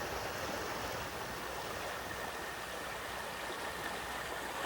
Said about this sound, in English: Water on rock.